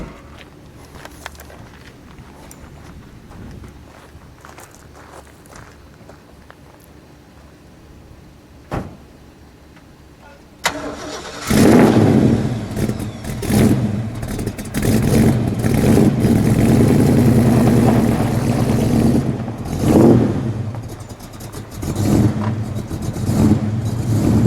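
A maroon 1968 Ford Mustang GT Fastback with a 428 Cobra Jet V8 sits quiet with a few faint clicks and a door thud. Then the engine cranks and fires with a loud roar and settles into a rumbling idle broken by several sharp revs.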